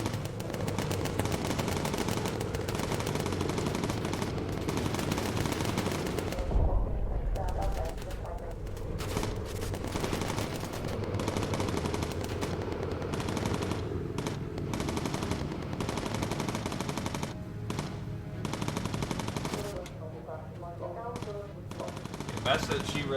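Bomber turret guns in the video game Bomber Crew fire in long, dense machine-gun bursts that run almost nonstop, with brief gaps and other game sounds, and some voice underneath.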